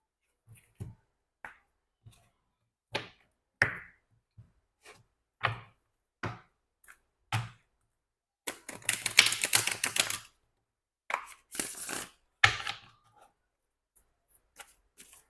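Tarot cards handled at a table, a series of separate soft snaps and taps as cards are drawn, with two longer rustling shuffles in the middle, close and quiet against silence.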